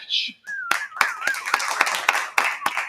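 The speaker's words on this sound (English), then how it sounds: "I like clapping." Hands clapping in a steady, fairly close series of sharp claps under a bright whistling tone at the start, with no talk.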